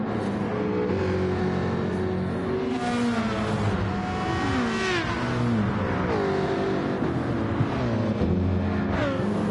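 A Jaguar Group 3 race car engine in a racing video game, loud revving with rising and falling pitch sweeps through gear changes, continuous and close throughout.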